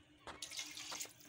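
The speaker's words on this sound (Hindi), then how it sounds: "अब हम इसमें पानी डाल लेते हैं" Water pours from a glass into a pressure cooker holding fried rice and vegetables for veg pulao, a brief, close splashing rush with no talk over it.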